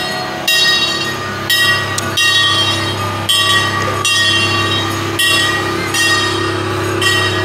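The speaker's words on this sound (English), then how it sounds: "here comes the train." An amusement park train at Six Flags Great America rolls past up close, loud and rhythmic, with regular wheel clacks about once a second and a high, steady squeal from the wheels.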